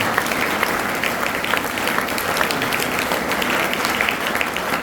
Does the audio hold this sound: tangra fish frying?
no